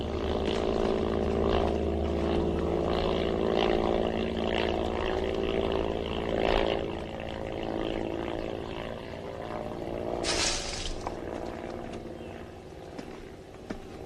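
A propeller airplane drones overhead in an old wartime film scene, a steady, moderately distant engine hum that lasts throughout, with brief louder noises over it.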